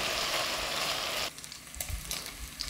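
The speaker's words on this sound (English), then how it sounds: "while this bacon is browning" Bacon browns in a big sauté pan with a loud, dense sizzle that suddenly drops to a quieter crackle about halfway through, with a few soft bumps afterward.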